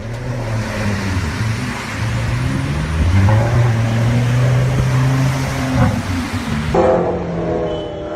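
A Lamborghini Gallardo supercar engine, driven hard, gives a loud, continuous roar that rises and falls with revving, with a rough burst near the end and no voices.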